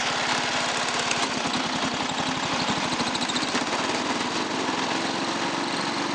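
A 1986 Toro 11-32 riding mower engine runs steadily up close, a rapid putter with a buzzy mechanical drone that holds throughout with no voices; its governor is faulty and it tends to die under load.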